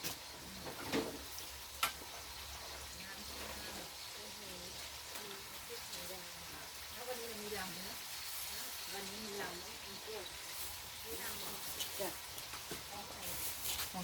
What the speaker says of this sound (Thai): เดี๋ยวทอดตรงนี้ก่อน